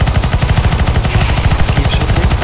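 Sustained automatic gunfire in CS:GO, a zombie escape map, with fast, even, loud shots repeating nonstop in the foreground and no talking.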